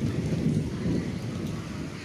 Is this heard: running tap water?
no